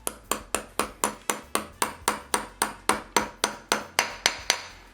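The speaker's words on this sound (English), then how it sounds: "grab the hammer, and I just hammer the plug into the floor" A hammer drives a plug into a pilot hole in a concrete floor, about fifteen sharp, evenly spaced taps ringing out close and clear, with no talk.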